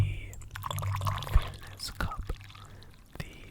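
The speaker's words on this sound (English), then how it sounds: "fairness cup that I am pouring the hot water into to heat up" Hot water poured into a fairness cup during a traditional Chinese tea ceremony, a close soft trickle and splash with a few drips, under a low whispering voice.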